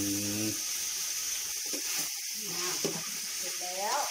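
Pork belly stir-frying in a pan for a Thai mixed-vegetable soup, giving a steady broad sizzle with occasional stirring scrapes and brief tonal sounds, close and fairly loud throughout.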